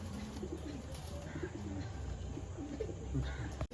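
Pigeons freed together at a show coo in a continuous, dense murmur of low calls close by, with steady rustling underneath.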